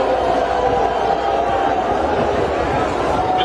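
A large crowd in Rio Grande do Sul jeers and boos Eduardo Leite, a loud, sustained roar of massed voices with no pauses, dense and close throughout.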